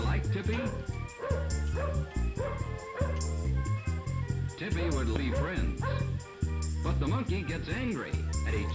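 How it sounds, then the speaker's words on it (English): Several dogs bark and yip nearby, with whimpering mixed in, in a busy layered chorus that runs the whole stretch alongside a voice. "It sounds as though there are many dogs nearby."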